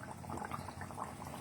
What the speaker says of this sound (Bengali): এটাকে খুব ভালো করে ভাজতে দিতে হবে